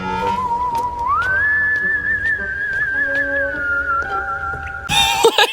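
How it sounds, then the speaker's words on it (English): A single clear whistle in an episode of the animated series School for Little Vampires slides up and holds a long steady note over faint ticking clicks, then cuts off in a sudden louder burst. "Why does this whistling sound like that?"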